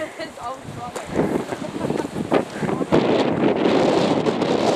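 Strong wind on a New Zealand mountain circuit batters the microphone with rumbling, uneven buffeting that surges louder toward the end. Voices are partly heard under the gusts.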